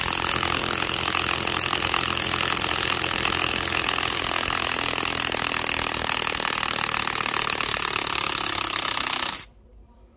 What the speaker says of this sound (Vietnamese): khi mà test trên cái vít gỗ này, nó sẽ còn nặng tải hơn chúng ta bắn vít bắn tôn rất chi là nhiều